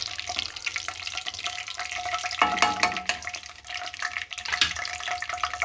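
Small cut pieces are stirred through hot oil in a pan, giving a close frying crackle with scraping stir sounds that swell in the middle and continue unevenly to the end.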